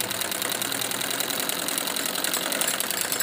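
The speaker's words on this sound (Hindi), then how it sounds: "उसी सिलाई के ऊपर दोबारा से हम इसको पक्की करके सिलाई को लगाएंगे" Sewing machine stitching salwar fabric runs in a steady, close, fast mechanical whir with rapid ticking and no talk.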